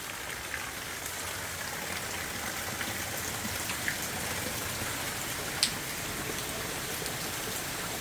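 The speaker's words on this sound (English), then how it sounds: "it's still raining" Steady rain during Hurricane Erick in Huatulco, Mexico, falling as a dense, even hiss of drops on surfaces, with a few sharper isolated drips standing out briefly against the constant wash.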